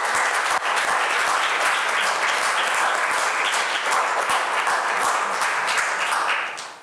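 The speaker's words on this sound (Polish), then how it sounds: "Uczestnikom naszej debaty już Państwo podziękowali brawami" Sustained applause from a debate audience, dense and steady clapping filling the room for about seven seconds before tapering off at the end, with no voices on top.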